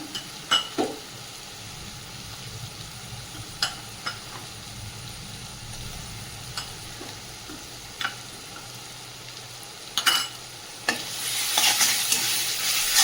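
Ginger garlic paste frying with browned onions and salt in a pan gives a steady, close sizzle, broken by regular scrapes and taps of a stirring spoon.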